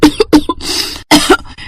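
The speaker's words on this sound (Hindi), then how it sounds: "खांसी होती है और खांसते हुए वो उठ" A woman wakes coughing late at night, giving a run of sharp, loud, close coughs in quick bursts with a brief rasping breath between them and a short pause before two final coughs.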